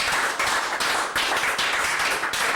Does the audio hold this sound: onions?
no